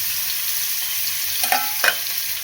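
Onions dropped into hot oil for a fish dish set up a steady broadband sizzle, with two brief clinks of a utensil against the pan partway through; no voices.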